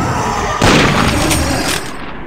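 A Remington gun fires in a video game: one sudden, loud, broadband blast that rings on for about a second before easing off, with no talking.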